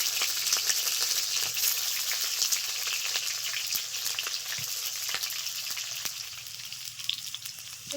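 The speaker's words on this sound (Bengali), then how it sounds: "তেল গরম হয়ে গেছে ভেজে নেব" Pointed gourd (potol) fries in hot oil with a steady, dense sizzle and crackle that holds throughout, with no voices.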